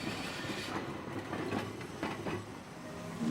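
Peak Cable Tram in Hong Kong climbing toward the top station, a steady rumble of rail car and wheels with faint clicking, continuous and fairly close.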